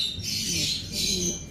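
Two racing pigeons, dark grizzle in colour, give two harsh squawking calls close by, each a drawn-out raspy burst with a short gap between them.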